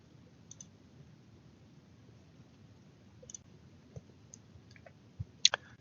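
Several quiet computer mouse clicks tick sparsely in a hushed room while an email is sent, a couple of sharper clicks landing near the end.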